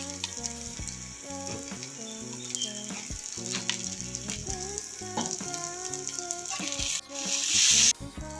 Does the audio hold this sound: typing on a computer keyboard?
no